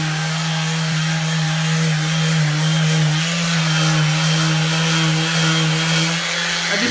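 A cordless Velcro-pad sander with 80 grit sandpaper works laminate in a steady, loud droning buzz with a strong low hum, running continuously and close with no voices.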